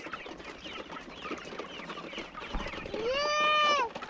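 Poultry-farm chickens make a busy, scattered clucking chorus at moderate distance, ending with one louder, drawn-out call near the end.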